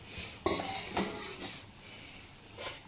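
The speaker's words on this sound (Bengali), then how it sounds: "ঢাকনাটা আমি তুলে নিচ্ছি" A metal lid is lifted off a cooking pot of tarka simmering over a medium flame, giving a sharp clink followed by a few lighter metallic knocks and clatter against the rim.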